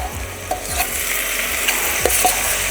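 Prawns marinated in salt, lime and pepper fry in garlic butter in a pan, giving a loud, steady close-up sizzle with scattered light scrapes and clinks of stirring, and no voices.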